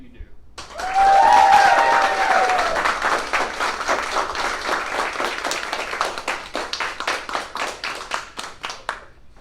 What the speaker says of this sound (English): please give a round of applause not only for Phyllis, but for all of you in OFI